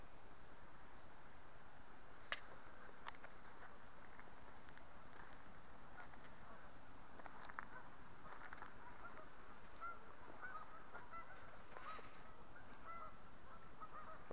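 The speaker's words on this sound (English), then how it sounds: "I've never seen so many geese in one place here." Many geese honk together at a Scottish wildlife reserve, a steady, distant chorus of overlapping calls with occasional nearer honks standing out.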